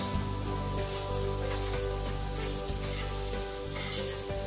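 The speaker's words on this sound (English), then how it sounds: "here is the seitan frying in the skillet" Seitan fries in a skillet for fajitas, giving a steady, close sizzle and hiss that runs throughout with light crackles and no voices.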